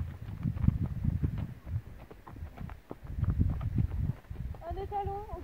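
A young stallion being started under saddle walks with soft, irregular hoof clops, close by and under a woman's chatter, with a brief whinny-like tonal sound toward the end.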